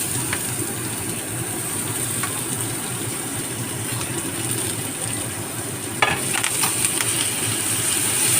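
Ridge gourd peel sautés in a pan with a steady, close, hissing sizzle throughout, broken by a sharper scrape of stirring near the end.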